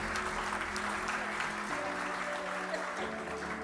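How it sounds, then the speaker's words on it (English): An audience at the Sharelle McMahon Medal netball awards night breaks into steady, continuous applause for the medal winner, heard fairly quietly with a faint tonal hum running beneath. "Applause for our Sharelle McMahon medalist."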